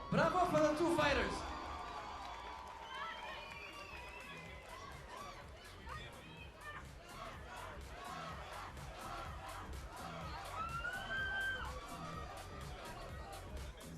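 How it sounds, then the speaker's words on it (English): A boxing crowd at an International Boxing Day event cheers and claps for two fighters, a loud whooping burst at the start giving way to scattered clapping, shouts and chatter. "Give us a big round of applause."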